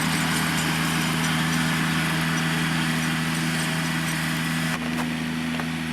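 A tractor engine runs steadily at a ranch, a constant droning hum with a slight shift in tone near the end, heard alone without talk.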